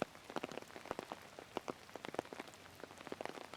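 Rain patters steadily on an outdoor surface during a yoga session, soft scattered drops tapping in an irregular rhythm, fairly faint and with no voices.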